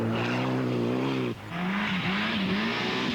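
A Mitsubishi four-wheel-drive rally car at the 1994 Flesberg Rally in the Norwegian Rally Championship. Its engine drones loudly at high revs, dips briefly at a gear change, then climbs again.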